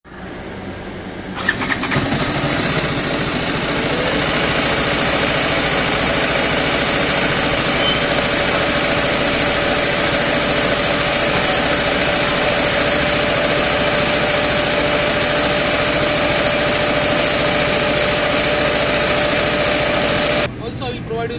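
A TVS Apache RR 310 motorcycle engine with an updated ECU starts and then runs loud and steady at close range for about twenty seconds before cutting off.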